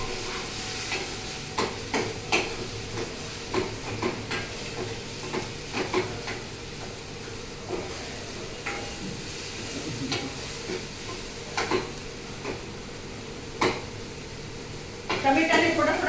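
Tomatoes cook in a pan with garlic paste and salt while being crushed and stirred, giving a steady low sizzle broken by repeated scraping, tapping strokes under occasional talk.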